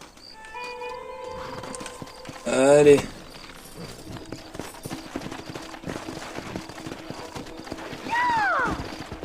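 Horses in the Red Dead Redemption video game clip-clop and gallop, with a sharp whinny near the start and another neigh toward the end, a rider's voice calling briefly over the hoofbeats.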